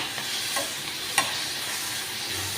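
Onions frying in a pan while making dal and rice: a steady, close sizzle with a few brief stirring scrapes, no voices.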